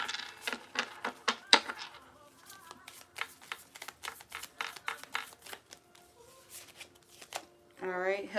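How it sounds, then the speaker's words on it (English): Tarot cards being shuffled, a rapid run of crisp riffling flicks close up, then scattered lighter card slaps, with a voice speaking softly over parts of it. "Let's pull a card for your love life."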